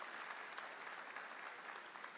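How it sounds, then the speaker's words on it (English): Applause from an audience at a high school gathering, steady dense clapping heard from a distance and fairly faint, with no talk over it. "So a round of applause for her."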